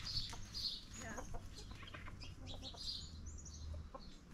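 Young roosters on a rural farm cluck and attempt short, scratchy crows in several bursts, mid-distance, with faint background chirping and no talk.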